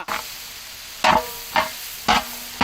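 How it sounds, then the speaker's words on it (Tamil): Vegetables such as cabbage, red cabbage, beans and green peas being stirred with roasted garam masala in a hot frying pan: four sharp scraping, sizzling strokes in a steady rhythm over a quiet background hiss. "அடிச்சு கிண்டு"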